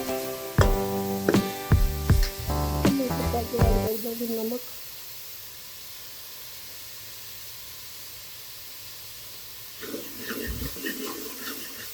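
A voice speaks briefly, then onions and tomatoes in a pan give a steady, soft sizzling hiss for several seconds before talking resumes over it.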